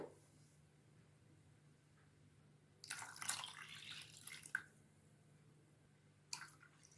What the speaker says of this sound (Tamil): மொத்தம் அஞ்சு கப்பு தண்ணி சேர்க்கணுங்க